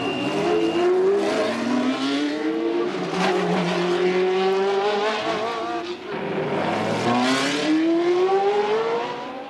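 Formula One race cars from the 1981 Las Vegas race scream past on a warm-up lap, engines rising and falling in pitch as several cars pass close and loud one after another.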